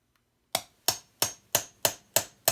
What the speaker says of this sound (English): I'm going to just hammer this to kind of start a little bit of a dent in the spot where I want to drill out